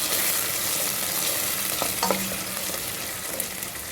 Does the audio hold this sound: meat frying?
yes